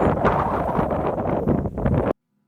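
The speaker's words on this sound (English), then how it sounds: "Wow, Miss Britta, what a windy day to be out in the garden." Strong wind buffets the microphone outdoors in a garden in spring, a loud, rumbling roar that blows steadily for about two seconds before it cuts off abruptly.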